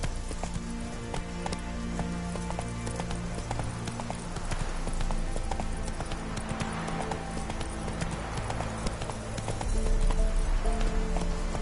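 Horse hooves clip-clop at a steady galloping rhythm in a PS4 video game, continuous and fairly loud throughout, with an occasional whinny and game music or ambience underneath.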